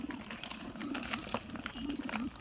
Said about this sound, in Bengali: এই যে আমার কবুতর সব বিক্রি করে দিমুন